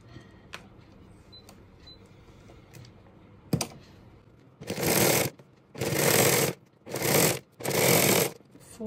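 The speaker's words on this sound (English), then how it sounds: "I leave half inches here and sew." A sewing machine stitches a corset belt in four short bursts of rapid mechanical whirring. They come after quieter taps and handling noises, close by and with no voices.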